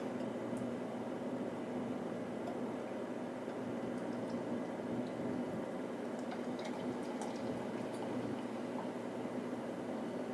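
Homebrewed cinnamon wine poured into a glass, a continuous soft liquid stream and fizzing trickle running steadily for about ten seconds, close and fairly quiet, with no voices.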